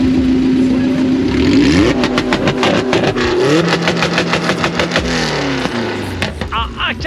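A Honda Integra at a Honda meet revs hard through an open exhaust with the manifold exiting directly, the engine climbing and falling in loud rising sweeps with crackling pops, close by amid crowd chatter.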